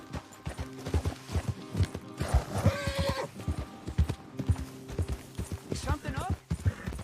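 Horse hooves in the game Red Dead Redemption 2 clop in a steady rhythm close by, with a horse whinnying midway, while people talk over the trotting.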